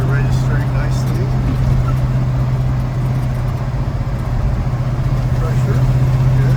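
A 1952 Studebaker V8 truck rolls along, its engine giving a steady, loud low drone with a constant hum, heard from inside the cab without letup.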